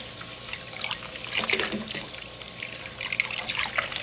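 Water trickling and splashing as a stainless steel pour-over coffee filter is rinsed under a tap, a soft continuous flow with brief louder surges.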